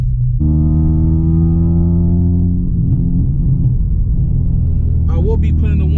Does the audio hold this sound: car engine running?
yes